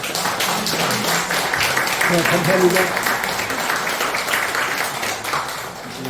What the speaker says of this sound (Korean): 우리 강혜중 목사님께 박수 한번 주세요